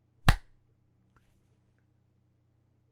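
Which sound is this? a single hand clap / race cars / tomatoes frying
a single hand clap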